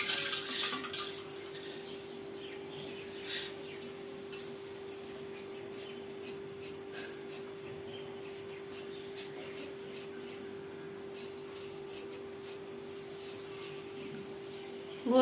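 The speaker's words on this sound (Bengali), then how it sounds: "আলুগুলো আমি কেটে নিচ্ছি" Raw potatoes being cut by hand in a home kitchen, giving faint, scattered clicks and taps of a knife over a steady background hum.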